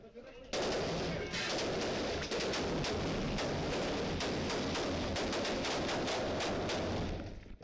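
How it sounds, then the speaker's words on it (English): Rapid bursts of gunfire crackle almost continuously indoors during a pre-dawn raid by Mexican Marines on a house, sharp repeated reports filling the whole stretch before tailing off. "Mexican Marines barge into a house, firing as they make their way from one room to the other."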